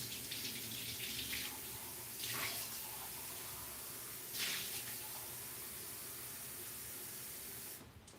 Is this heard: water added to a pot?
yes